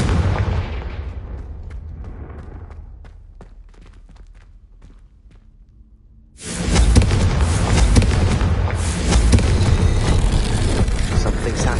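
Confringo explosion spell cast in Hogwarts Legacy: a quieter stretch of scattered thuds gives way to a sudden loud, broadband blast that stays roaring and dense for several seconds.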